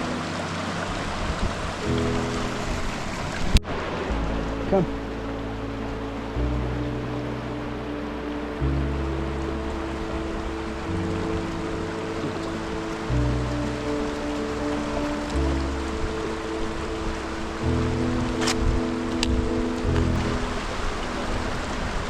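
Hell Roaring Creek in the Sawtooth Wilderness rushes beside a log crossing, a steady loud wash of water filling the whole stretch, with a brief spoken word and a few faint knocks and footsteps.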